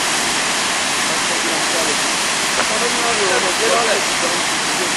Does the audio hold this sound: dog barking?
no